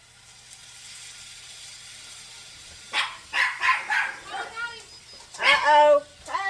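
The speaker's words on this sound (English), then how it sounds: "My dog's going crazy." A pet dog barking excitedly indoors in a home kitchen as a friend arrives, a run of loud, close barks and yips after a few quiet seconds.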